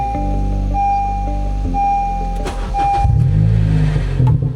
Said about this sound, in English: we got a little grinding noise from this